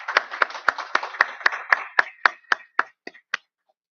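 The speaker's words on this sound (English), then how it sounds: "Let's give them a round of applause." A short round of clapping from a small audience at a conference opening, sharp claps in a quick, even rhythm that thin out and stop after a few seconds.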